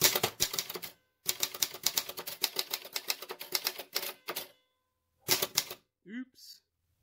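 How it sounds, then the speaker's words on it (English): A 1960s Sperry Rand Remington Streamliner manual typewriter types in rapid clacking bursts separated by short pauses, with a carriage sound near the end. The typing is close and loud, and a brief voice is heard at the end. "so let's give this a test type. The Sperry Rand Remington Streamliner"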